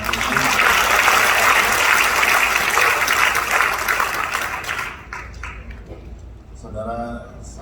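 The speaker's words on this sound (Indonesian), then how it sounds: "Berikan tepuk tangan untuk Pak Adi." A church congregation claps during an anniversary service, loud sustained applause that fades out midway, followed by a few scattered claps and a voice speaking.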